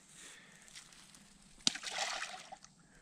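A fish released back into a small, clear creek makes a sharp splash followed by a burst of sloshing and trickling water, close and fairly faint against a quiet outdoor background.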